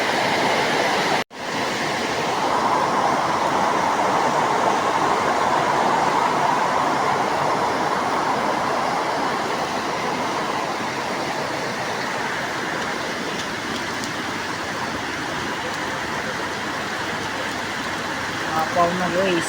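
Rushing floodwater roars steadily and loud throughout, a dense continuous wash broken only by a brief dropout near the start.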